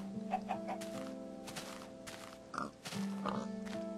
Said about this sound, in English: Let's get all these pigs. Come on, pigs.